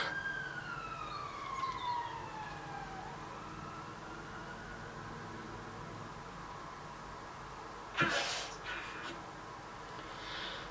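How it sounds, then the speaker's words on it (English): A police car siren wails and sweeps downward as it passes nearby, fading out, followed by a brief burst of loud rustling or handling noise near the mic. "There is always police cars when I film."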